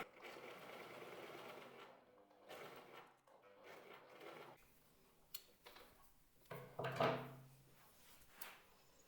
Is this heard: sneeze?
no